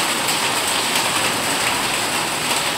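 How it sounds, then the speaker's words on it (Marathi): Heavy rain pours down steadily, a loud dense roar of drops hitting surfaces without pause. "भर पाऊस आहे."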